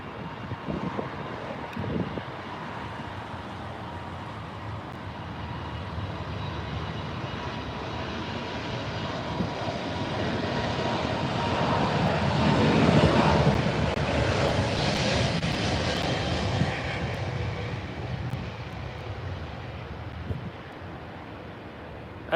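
A China Southern Boeing 777 at Heathrow on its takeoff roll: broad jet engine roar swelling over about ten seconds to a loud peak, then slowly fading into distance, with wind buffeting the microphone.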